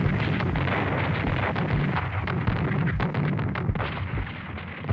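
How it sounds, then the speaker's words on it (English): Artillery guns fire in a dense, continuous barrage for an audio drama, a loud rumbling wall of booms and blasts with no pauses and no voices. "Commence firing on the hour"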